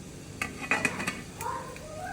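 A metal lid is set onto a pot of steaming oil-greased idli, producing a few quick metallic clinks and scrapes close by over a faint background hiss.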